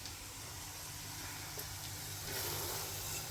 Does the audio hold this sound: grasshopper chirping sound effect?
no